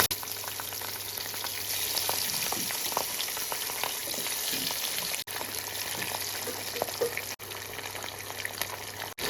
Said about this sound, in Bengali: এবার সমস্ত মাছগুলো গরম তেলের উপর দিয়ে হালকা করে ভেজে তুলে নেব